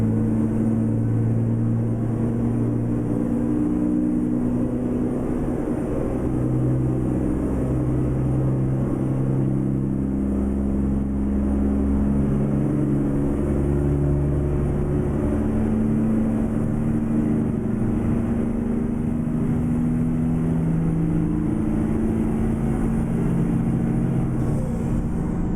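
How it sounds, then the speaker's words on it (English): Deep, loud truck engine drone from a heavy rig in American Truck Simulator hauling container trailers, a steady low rumble with shifting pitch as it pulls and revs, heard alone without talk. "This is definitely a mean engine. She is loud."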